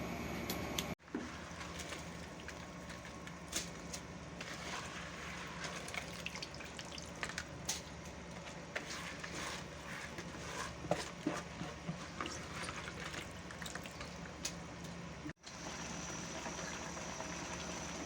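Pulao rice with peas simmers in a pot of boiling water that is nearly dried up, giving a soft continuous bubbling and sizzling hiss, faint and steady with no talk.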